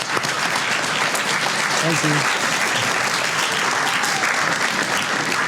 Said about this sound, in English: a round of applause for our 3 astronauts